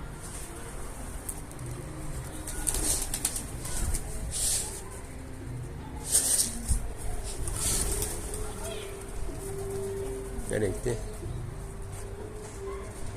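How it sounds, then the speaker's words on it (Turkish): Pigeons or doves coo and flutter close by near a chicken coop, with bursts of wingbeats and calls rising over steady background noise while people talk throughout. "Kümese kuş mu geliyor?"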